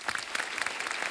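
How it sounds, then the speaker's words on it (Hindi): A studio audience on a comedy talk show gives a brief burst of loud, steady applause, with a few sharp claps standing out. "पहले जोरदार तालियां।"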